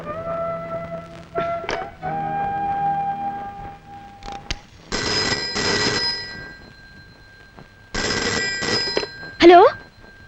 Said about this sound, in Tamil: உங்களுக்காக வேணா நான் டயல் பண்ணி கொடுக்கறேன்.